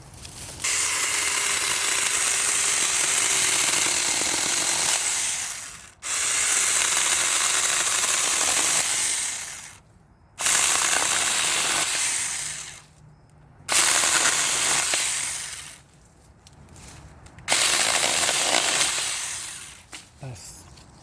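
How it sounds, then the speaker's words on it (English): A SAKER mini electric chainsaw cuts wood in several loud, close bursts of steady buzzing whine. Short pauses separate the bursts, which sound up close and alone. "We tried this SAKER chainsaw, mini chainsaw."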